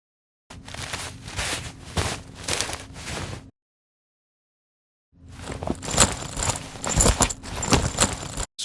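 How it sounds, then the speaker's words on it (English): Foley of a child moving through woods: rustling of a laptop bag and jeans fabric mixed with footsteps. Two bursts of close, busy rustling and shuffling are split by a few seconds of silence. "this laptop bag and jeans foley for his clothing and his bag rustling"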